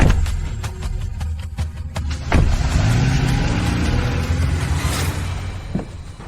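A car engine accelerates as the vehicle pulls away, a loud close-up mid-range roar that swells after a couple of seconds and holds steady, with no talking.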